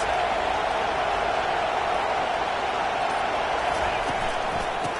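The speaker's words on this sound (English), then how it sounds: "Listen to this crowd just shaking the girders of this place, trying to help their defense." A stadium crowd in an American football video game roars steadily, a dense, loud and unbroken wall of cheering noise with no gaps across the whole stretch.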